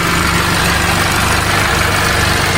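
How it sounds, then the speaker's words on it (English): A car engine idles smoothly and steadily with a constant low hum and no misfire, running on a known good replacement ignition coil. "We have the engine running here."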